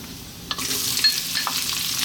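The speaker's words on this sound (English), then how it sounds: "And just for 3 minutes, we're going to throw this around in the pan." Sliced onion and garlic frying in hot oil in a pan give a steady, close sizzle, with a few sharper clicks as they are tossed and stirred.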